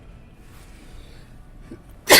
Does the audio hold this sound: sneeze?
yes